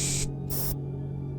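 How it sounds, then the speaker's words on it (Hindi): A room spray can hisses in two short bursts, a longer blast then a brief second spritz, loud and close, with a steady low hum underneath. "उसको इस तरह की आवाज आती है कि कोई फ्लैट के अंदर बहुत ज्यादा स्प्रे कर रहा है।"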